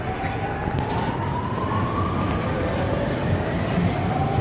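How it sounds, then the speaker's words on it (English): An emergency siren wails with a slowly rising tone over steady traffic rumble on a Melbourne CBD street near Flinders Street. It sounds moderately distant and holds for the whole stretch. "we're in Melbourne, so there's a siren going"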